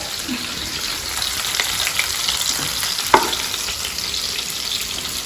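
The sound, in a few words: chicken frying in oil in a pan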